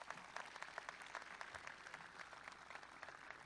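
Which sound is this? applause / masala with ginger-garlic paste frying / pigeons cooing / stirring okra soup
applause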